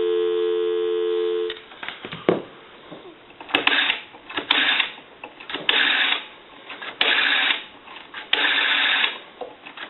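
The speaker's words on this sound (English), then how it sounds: "Give you some dial tone." An A&E three-slot payphone gives a steady dial tone for about a second and a half. It is followed by clicks and a rhythmic series of harsh, buzzy bursts.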